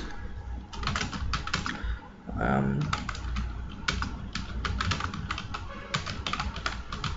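Rapid keystrokes from typing on a computer keyboard, clicking in quick irregular bursts at close range, with a short pause partway through and a voice speaking briefly over it.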